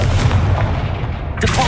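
A Confringo fire spell blasts in Hogwarts Legacy as a loud, sustained rumbling roar, with a sharper burst near the end.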